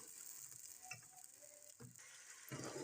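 Ground onion frying in a wok for a saffron moti biryani masala, a steady faint sizzle with occasional stirring scrapes and clinks throughout.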